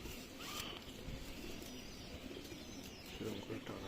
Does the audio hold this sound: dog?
no